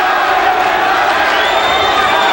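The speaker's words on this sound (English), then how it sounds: "The crowd chanting for McGirt." A boxing crowd at a 1991 WBA welterweight title fight chants for a fighter, a dense, loud roar of many voices holding steady from start to finish.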